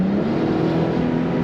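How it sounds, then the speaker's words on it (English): A 2007 Ford Mustang convertible with an automatic transmission kicks down and accelerates, giving a steady, loud engine drone from the cabin that rises slightly in pitch, with no voices. "And again, good throttle response in the kick down"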